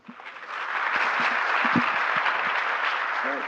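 An audience claps warmly to welcome Imam Omar Suleiman at an interfaith gathering. The applause starts quietly, swells within half a second and holds steady and full, a large crowd clapping without talk.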